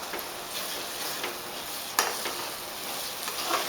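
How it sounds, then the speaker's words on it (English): An egg being stirred and scrambled in a hot frying pan for chapati egg noodles, a steady close sizzle with light scraping taps of a utensil against the pan, no talking. "So at this time you can scramble the egg."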